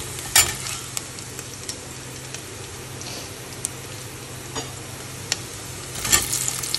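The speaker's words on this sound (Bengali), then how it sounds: "রসুনটা একটু ভাজা ভাজা হয়ে গেলে পেঁয়াজটা দিয়ে দেবো" Garlic frying in a pan, a low steady sizzle with occasional sharp clicks and scrapes of stirring, close and without talk.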